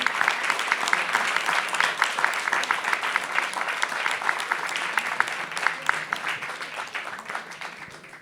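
Audience at a book presentation breaks into sustained applause, dense steady clapping from a roomful of people that tapers slightly toward the end.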